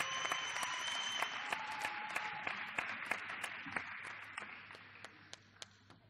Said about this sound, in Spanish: un aplauso en serio para los muchachos